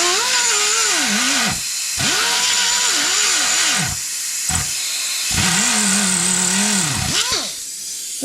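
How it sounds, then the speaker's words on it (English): A die grinder cutting into a metal lever on a 1969 Charger while fitting headers, its whine rising and falling in several separate passes with brief pauses between, loud and close. "put a die grinder to it. See if this will cut through that damn thing."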